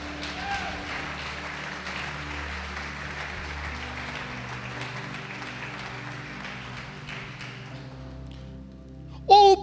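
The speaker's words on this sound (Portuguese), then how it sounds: "Pode aplaudir o Senhor Jesus e glorificar." Church congregation applauding: steady, moderately loud massed clapping, tapering off toward the end with a brief louder burst at the close.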